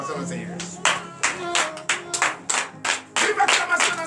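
A congregation at a morning prayer service claps in acclamation to the Lord, loud rhythmic claps in a steady repeating beat, close and distinct.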